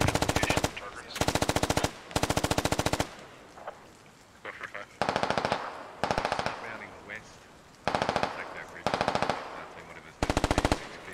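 Automatic rifle fire in the military shooter game SquadOps comes in loud, repeated long bursts separated by short pauses, with faint background noise and quiet radio-style voices between volleys.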